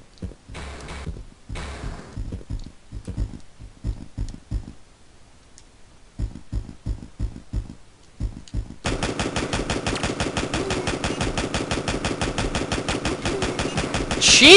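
Gunfire in the video game Backtrack: a few scattered shots early on, then a long, steady stream of rapid, evenly spaced shots that sounds like loud automatic fire and builds at the end.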